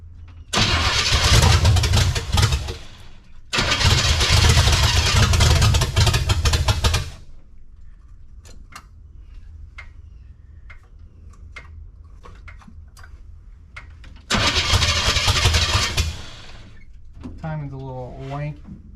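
A 1972 Chevrolet C10 pickup's small-block 350 V8, with timing slightly off, roars loudly in two long bursts of revving, separated by a quieter stretch of idle ticking, then a brief voice at the end.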